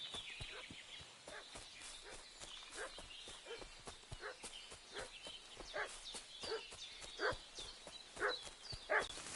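A dog in Kingdom Come: Deliverance 2 barks repeatedly at a moderate distance in an irregular series of sharp woofs, with hoof-like clopping and footsteps beneath.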